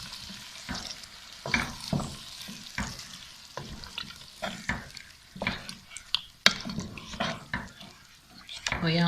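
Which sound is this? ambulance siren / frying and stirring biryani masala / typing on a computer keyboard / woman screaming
frying and stirring biryani masala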